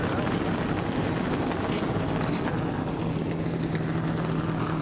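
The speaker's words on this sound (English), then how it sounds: "Start your engines." NASCAR Xfinity Series race car engines fire up and idle together on the grid at the Sport Clips Haircuts VFW 200, a steady, dense mechanical rumble with a constant low drone throughout.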